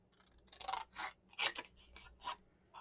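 Scissors cut the corners of a paper pocket for a mini album, a quick series of about six crisp snipping strokes, close and fairly quiet.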